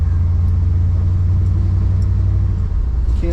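An old truck engine rumbles steadily as it cruises around the block, a deep, continuous low drone close by with no talk over it.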